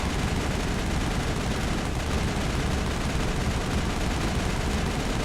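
Rapid, continuous gunfire in the Mass Effect video game during a fight against krogan enemies on Virimire, a dense unbroken roar of shots filling the whole stretch with no talk over it.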